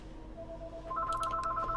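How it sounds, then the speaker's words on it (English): A telephone rings during a game session, a repeating electronic ring tone that enters about halfway through, fairly clear over a low background hum. "Ooh, phone's ringing."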